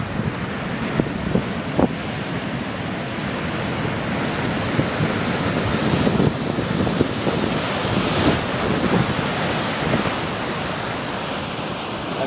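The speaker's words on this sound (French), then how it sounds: "On aura peut-être droit à quelques grosses vagues." Big waves break and wash against the tetrapods of the south jetty of a harbour at dusk, a continuous loud roar of surf mixed with wind buffeting the microphone.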